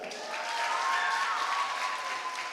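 Audience applause for the debate winner at a national debate championship final fills the hall, a steady, dense clapping that swells and then eases slightly over a few seconds.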